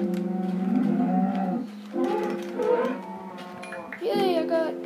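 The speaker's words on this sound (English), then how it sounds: "And look, there's a cow to get some leather." A Minecraft cow moos three times in a row, loud and close. Each call is a drawn-out, tonal lowing with short pauses between.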